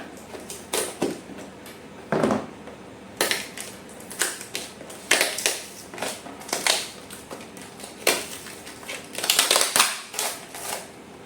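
Packaging around a glass juice jar being cut open in a kitchen: irregular bursts of crinkling, tearing and scraping, close and fairly quiet, separated by short pauses with no talking.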